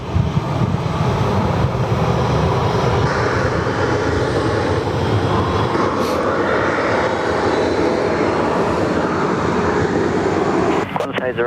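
A VietJet airliner roars with jet engine noise at Sydney Airport, loud and sustained throughout, with wind buffeting the microphone.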